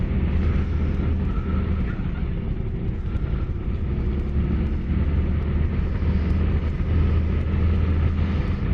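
Toyota Crown MS65 with an Aisan carburetor idling, a steady low engine rumble held close and loud throughout with no voices.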